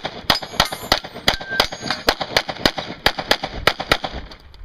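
Gunshots at a shooting match crack out in a rapid string of about fifteen sharp, loud reports at a fairly even pace, close by with faint outdoor background between them.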